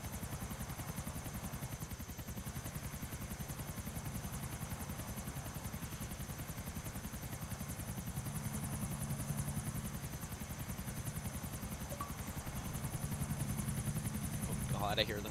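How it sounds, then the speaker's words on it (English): Helicopter rotors drone steadily through a round of GTA The Lost and Damned, a continuous low throbbing engine sound that swells slightly toward the end, mixed with other game noise. "Oh god, I hear the helicopters already."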